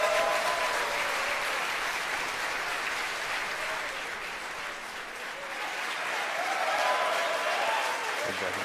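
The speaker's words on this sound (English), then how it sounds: "you hear the applause here from SpaceX headquarters in Hawthorne, California" Sustained applause and cheering from a crowd at SpaceX headquarters in Hawthorne, California during a rocket launch, a steady wash of clapping that swells slightly near the end.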